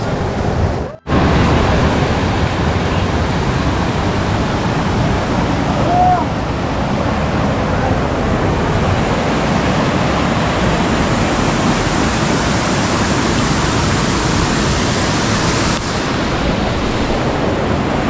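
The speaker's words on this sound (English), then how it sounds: "So what you have just seen is Ashoka waterfall" Ashoka Waterfall roars steadily and loudly, a dense unbroken rush of falling water that fills the whole scene.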